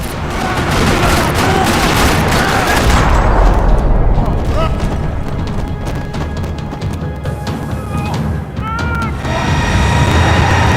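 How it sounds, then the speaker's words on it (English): Heavy gunfire in a parking lot in the Max Payne 3 video game, rapid bursts and crashing impacts dominating at high volume, easing slightly midway before picking up again, with game sounds layered in. "Another parking lot rattling with gunfire."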